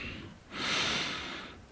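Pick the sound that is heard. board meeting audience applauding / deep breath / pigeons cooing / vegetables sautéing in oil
deep breath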